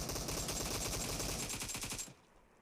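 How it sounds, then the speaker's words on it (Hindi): Rapid automatic gunfire from a hill in the battle royale game BGMI, a dense burst of rattling shots lasting about two seconds, loud and close, then cutting off abruptly into near silence. "फिर मेरे को हिल की तरफ से एक फायर आता है"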